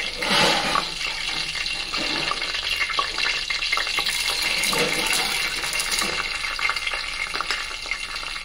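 Mustard seeds, cumin and chana dal fry in hot oil for an upma tempering, a bright crackling sizzle with irregular spatters and pops that stays fairly loud throughout.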